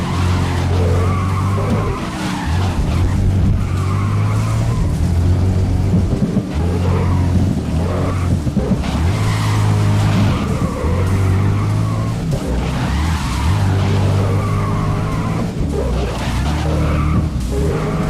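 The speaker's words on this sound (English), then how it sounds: "the drifting is sick" A car drifts across a rain-soaked road in a racing video game, its tires squealing and skidding over a loud, steady engine drone, with rain noise underneath and no voices.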